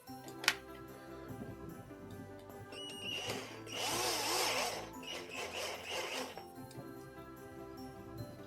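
Power drill driving a screw to fix a window handle onto its frame, a quiet whirring burst that swells in the middle and then trails off, with a sharp click near the start.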